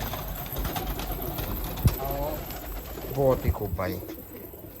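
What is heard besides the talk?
Nishawar pigeons cooing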